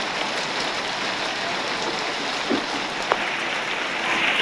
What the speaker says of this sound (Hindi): इतनी ज़्यादा तेज़ बारिश आ चुकी है ना